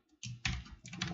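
Quiet keystrokes on a computer keyboard while entering a password into an HTML password field, a short cluster of a few soft clicks close to the microphone, with no talking.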